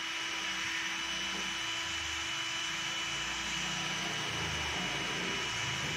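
A steady whirring motor runs continuously throughout, a cordless drill spinning at constant speed while cleaning a part of an electric fan, fairly close with a faint low rumble underneath.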